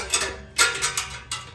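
A battery-powered tool loosening a bolt during exhaust tip work on a 2022 Dodge Durango RT Hemi, heard as a quick series of close, metallic ratcheting bursts.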